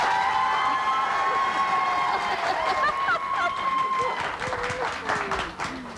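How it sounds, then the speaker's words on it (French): An audience applauds with cheering and a few shouts, a sustained burst of clapping heard from a moderate distance while a presenter's voice rings over it. "on va y aller avec les applaudissements"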